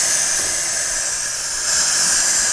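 Gorilla patch and seal spray hisses steadily from an aerosol can as it coats a surface in a barndominium, a loud continuous close-up rush of spray.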